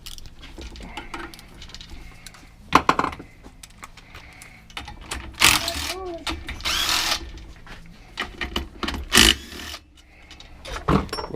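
Seven 6mm sump bolts being removed from the engine of a Hayter Harrier 48 lawnmower, with several short whirring bursts from a power driver, metallic clinks and rattles between them, close up.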